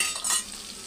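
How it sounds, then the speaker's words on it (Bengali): Potatoes frying in a pan with ginger paste being stirred in, a steady close sizzle with soft scraping of the spoon, for a Bengali jackfruit fritter curry. "এখন আমি আদা বাটা দিয়ে দেব।"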